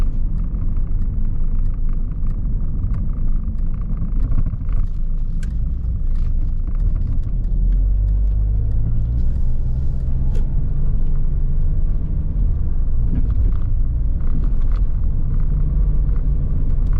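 A diesel Rover 75 Tourer estate car's engine labors with a steady low rumble while driving up a steep hill, and the engine note shifts partway through as it climbs.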